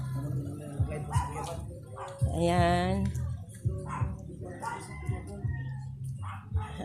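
A dog barks and yips several times in short bursts, with a longer whining howl in the middle, while someone speaks nearby.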